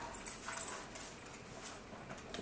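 Dogs whimper faintly and on and off behind a steady hiss of room noise in a home kitchen, with no clear talk over them.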